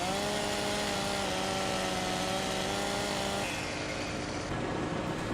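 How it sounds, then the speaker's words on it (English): A chainsaw in Farming Simulator 17 cuts a bush, a steady buzzing whine that holds constant, then drops in pitch and roughens partway through as the cut proceeds, loud and alone. "I'll just cut it down with a chainsaw."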